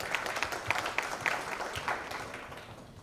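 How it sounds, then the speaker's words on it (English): An audience at a formal forum gives a brief, faint round of applause. Scattered claps sound at a distance and taper off within a few seconds. "let's give her a round of applause"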